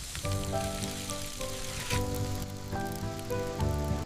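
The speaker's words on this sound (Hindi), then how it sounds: "बारिश शुरू हो गई।" Rain falls over a cartoon jungle in a steady, close hiss, with sustained musical tones layered over it throughout and no talking.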